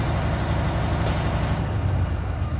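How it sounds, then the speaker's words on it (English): A truck's air compressor governor cutting out, a brief sharp burst of air hiss that rises over a steady idling engine rumble and then fades back into it, with no talking. "my air compressor governor kicked out"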